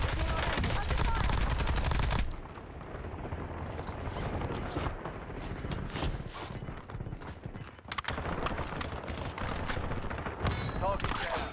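Rapid bursts of automatic gunfire from the video game Call of Duty Warzone, loud and close at the start, then repeated shots and clatter over game effects for the rest.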